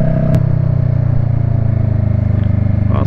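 A motorcycle rides along winding country roads near the village of Lauzerte. Its engine holds a loud, steady droning hum throughout, with a brief click near the start and no talking.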